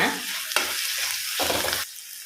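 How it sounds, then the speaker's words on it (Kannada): Onions and tomatoes sizzle and fry in a pan, a bright crackling hiss broken by short stirring pauses, close and steady. "ಈ ಈರುಳ್ಳಿ ಫ್ರೈ ಆಗಲಿ ಹಾಗೆಯೇ ಟೊಮೆಟೊ ಸ್ವಲ್ಪ ಸಾಫ್ಟ್ ಆಗುವಷ್ಟು ಮಿಕ್ಸ್ ಮಾಡುವ"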